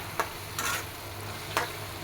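Spices being sautéed with ginger and garlic in a pan, a quiet steady sizzle broken by a few sharp scraping stirs of the spoon, with no talking.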